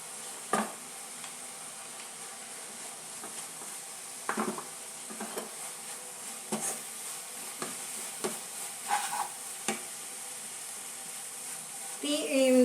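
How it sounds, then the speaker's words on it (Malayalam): Jackfruit and rice flour are stirred in a frying pan, giving a steady low sizzle with scattered scraping clicks of the spoon against the pan. "കുറച്ച് കുറച്ചായിട്ട് ഇട്ടിട്ട് ഒന്ന് ഇളക്കി എടുക്കാം."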